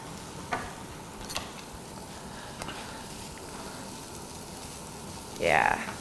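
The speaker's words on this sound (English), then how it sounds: "And now we mix it all together." Taco filling sizzles steadily in a pan while being mixed, a soft continuous frying hiss with occasional utensil taps and a louder scrape near the end.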